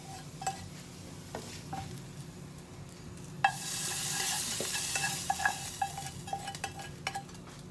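A chili tempering hisses and sizzles as it is stirred into cooked chana, a soft crackle that swells into a louder, brighter sizzle midway, with light clinks of a spoon against the pan.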